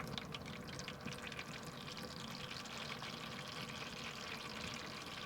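Automatic transmission fluid from a 2011 Chevrolet Impala's 4T60-E gearbox draining into a catch pan, a steady, close trickling and splattering of liquid with no voices.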